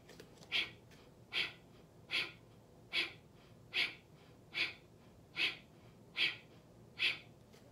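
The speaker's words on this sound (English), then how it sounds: "breath of fire is done in through the nose, exhale out the nose, hands on the belly, and you're going to use your stomach as a pump" Breath of fire breathing, rapid forceful exhales through the nose pumped from the belly, about nine sharp evenly spaced puffs, close and fairly quiet, with no talking.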